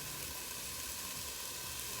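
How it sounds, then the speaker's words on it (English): Leftover turkey chili sizzles in a pan, a steady, dense crackling hiss that holds close and even throughout. "I know this is probably loud because it's sizzling"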